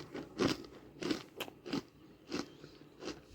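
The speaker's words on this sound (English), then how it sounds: "Hopefully you can hear that crunching." Someone chews a crisp, toasted sesame seed and sugar bar from a German Type 7 field ration, making about six close, even crunches with a loud bite near the start.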